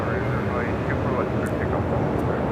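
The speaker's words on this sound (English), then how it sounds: "runway 24 left, clear for takeoff." Airliner taking off from runway 24 left at LAX, a steady broad engine roar heard throughout at moderate distance.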